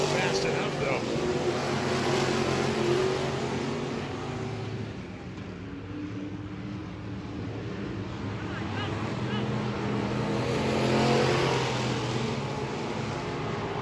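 IMCA stock cars racing a feature at North Central Speedway, a steady loud engine roar with broad rumbling noise and wind buffeting that swells and fades, mixed with a commentator's voice throughout.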